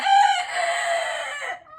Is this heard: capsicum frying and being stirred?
no